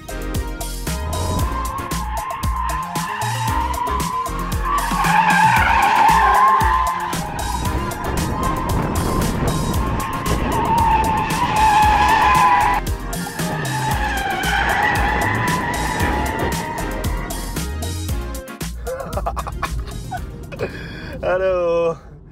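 A 2022 BMW 330i in Sport Plus mode with DSC switched off squeals its tires in a long, loud, wavering skid with engine roar, as a voice speaks over parts of it.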